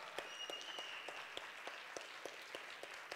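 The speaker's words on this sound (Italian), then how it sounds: "Un bel applauso per l'Ardita Savate" An audience at the 2013 Notte Magica dello Sport sports night applauds the Ardita Savate club, with steady, fairly faint clapping broken by scattered sharper individual claps throughout.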